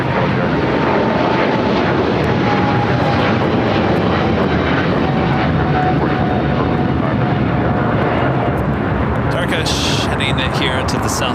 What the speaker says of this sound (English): 777-300ER. Next takeoff here on the south side.